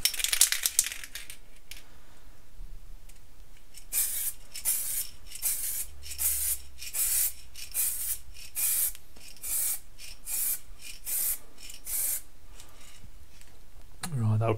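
A bottle is held upside down and sprayed onto a circuit board in a rapid series of short, hissing bursts, close and evenly spaced, with faint sounds between them.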